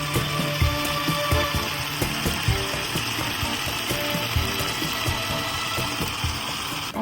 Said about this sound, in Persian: من یه مقدار روغن داخل مایتابه ریختم و میخوام گوشتامون رو سرخ کنم